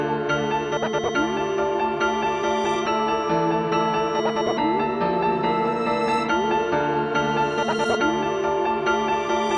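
A beat built with Flex Beat on an MPC plays with every track looping together, a dense steady mix of drums, bass and melody that runs without a break.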